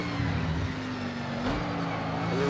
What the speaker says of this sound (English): Really can hear the tires scrubbing.